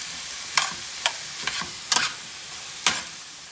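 Thick pieces of brown mushroom cooking in a pan, a low hiss broken by five or six distinct scraping stirs spaced irregularly.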